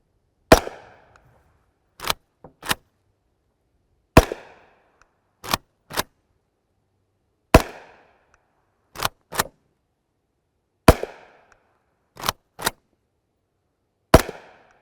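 Subsonic 7.62x39mm Prvi Partizan 182-grain FMJ rounds fired from a rifle outdoors, with sharp reports in bursts of one to three shots spaced over about fourteen seconds, each followed by a brief decaying tail and no talk.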